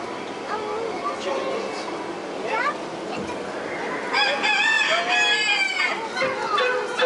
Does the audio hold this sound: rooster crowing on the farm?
yes